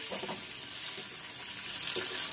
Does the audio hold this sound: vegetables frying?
yes